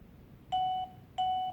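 A smart video doorbell gives two clear electronic beeps about half a second apart, each a steady tone lasting roughly a third of a second, confirming it has synced after pairing, in an otherwise quiet room.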